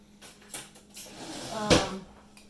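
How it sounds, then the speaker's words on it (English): In a kitchen during cranberry bread baking, a knife is grabbed from a drawer: a few faint clinks and rattles, then one sharper metallic clatter, close and quiet with no voices. "I'm gonna grab a knife"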